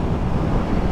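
Wind blows on a windy hilltop as a steady, full low rush buffeting the microphone, with no voices.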